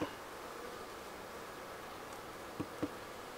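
Honeybees hum softly and continuously around an opened hive being inspected outdoors, a faint even drone with a couple of brief knocks near the end and no voices.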